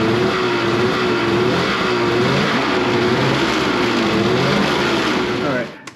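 A snowmobile engine runs steadily on a stand after a rear suspension install, a loud continuous drone with a wavering pitch throughout, then cutting off abruptly near the end.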